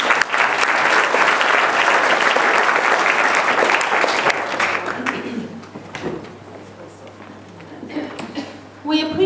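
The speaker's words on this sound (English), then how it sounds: "A round of applause for Annabel." An audience at a poetry reading applauds warmly for a few seconds; the clapping thins out and fades while a voice begins speaking alone.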